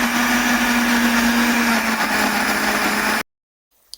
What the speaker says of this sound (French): Je vais maintenant passer le tout au mixeur pour faire ma sauce tomate pour les spaghettis.